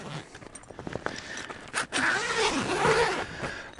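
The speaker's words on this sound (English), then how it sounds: "and start to unzip the cover." Zipper on a 23zero Breezeway rooftop tent cover being pulled open outdoors beside a vehicle, a long continuous rasping zip that grows louder and steadier toward the end.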